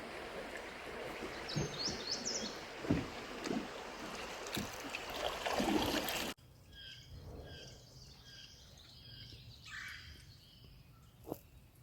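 Birds calling along a river in the Ozarks, with repeated chirps and short songs heard over quiet water and paddle sounds, first amid splashing, then in a calmer stretch with clearer calls.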